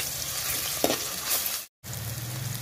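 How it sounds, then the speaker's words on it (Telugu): Ginger garlic paste fries with mint and coriander in hot oil for a potato curry, giving a steady close sizzle and crackle with a stir. A brief silent gap falls near the end. "ఇప్పుడు ఇందులో అల్లం వెల్లుల్లి పేస్ట్ వేసుకుందాం."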